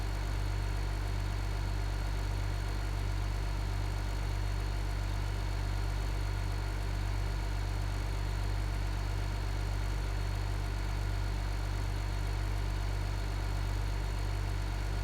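A John Deere 4020 tractor in the Farming Simulator 15 video game idles with a steady, loud, low engine drone that stays constant throughout, with no voices.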